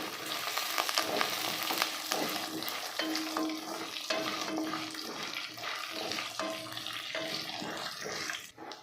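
Two spoons of sesame seeds, with a little cumin, fry in a pan, crackling and popping densely and loudly up close, with frequent stirring scrapes throughout and no voices.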